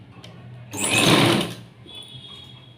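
A sewing machine stitches a blouse in one short burst of rapid needle chatter lasting under a second, close and clear, then a quiet hum.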